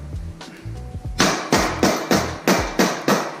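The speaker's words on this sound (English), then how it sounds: "you wanna put your bearing in there, kind of snug it up, and take your rubber mallet" A rubber mallet taps a bearing onto BMX bike cranks with sharp, close, evenly spaced knocks, softer at first and then about seven louder strikes in a regular rhythm.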